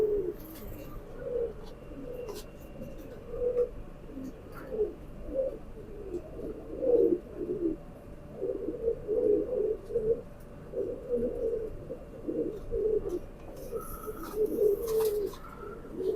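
A male kamagar pigeon coos continuously in low, throaty, rolling phrases, close by and steady, with faint background noise and no talking.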